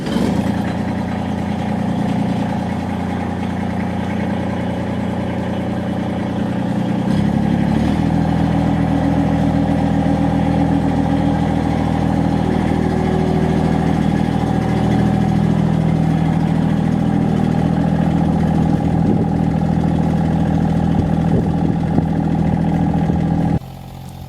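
A Massey Ferguson sub-compact tractor engine idling close by, a steady low drone that steps up slightly in pitch partway through, then holds evenly before cutting off at the end.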